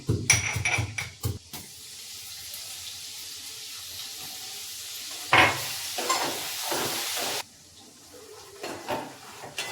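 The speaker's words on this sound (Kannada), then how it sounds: "ನೋಡ್ರಿ ಶೇಂಗಾ ಕಾಳ ಎಣ್ಣೆಯಾಗ ಫ್ರೈ ಮಾಡಾತನ." Peanuts frying in hot oil, with a steady hiss and sizzle throughout, a few sharp stirring clatters at the start, then a sudden drop toward the end.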